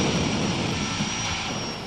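Jet dragster engine run up at Great Lakes Dragaway pits during a test: a loud, steady, broadband roar with a sustained high whine, holding constant for about two seconds with no talk.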